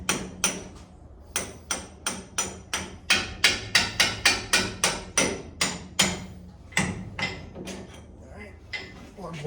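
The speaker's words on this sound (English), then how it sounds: "Punch and hammer. Punch and hammer. Yeah, just drive that bolt through." Sharp metal-on-metal hammer blows strike a punch, driving a bolt out during suspension work on a 1985 Chevrolet Silverado, about twenty-five ringing impacts in a steady rhythm, close and loud, with brief pauses between bursts.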